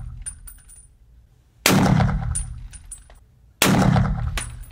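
Two loud, close blasts from a 12-gauge shotgun, each a sharp report with a long booming decay, spaced about two seconds apart, with faint clicks and handling noise between.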